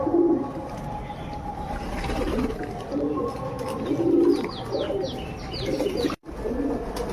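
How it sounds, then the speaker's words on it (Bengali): Pigeons coo in soft repeated phrases close by while bathing, with light splashing and fluttering mixed in and a few brief chirps near the end. "দেখুন, এক এক করে সব পায়রা স্নান করছে।"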